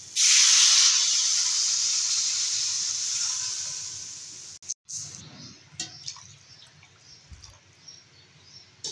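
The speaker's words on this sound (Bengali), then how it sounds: "এবারে ঝোল দিয়ে দেবো।" Thin fish curry broth of katla fish and papaya poured into a hot pan bursts into a loud, bright sizzle that slowly fades, followed by faint ticks and small clatters.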